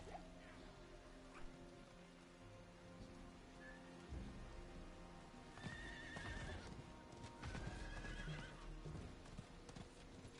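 A horse in Diablo 4 clip-clops at a steady pace under soft rain-like patter, with a whinny rising partway through and the hoofbeats growing louder toward the end.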